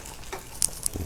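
Bacon cooking whole in a pan for Himmel und Erde, a soft steady sizzle with a few brief sharper crackles and pops, close and fairly quiet, no voices.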